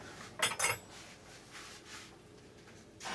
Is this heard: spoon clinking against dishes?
yes